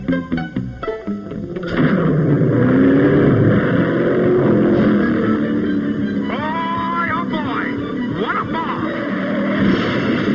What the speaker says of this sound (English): A high-speed inertia motor ought to catch that mouse with ease. I'll just give it a quick road test.